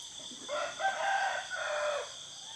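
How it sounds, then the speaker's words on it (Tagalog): A neighbor's rooster crows once in a single long cock-a-doodle-doo at moderate distance in a rural province yard, heard over steady background insect buzz with no talking. "Manok ng kapitbahay."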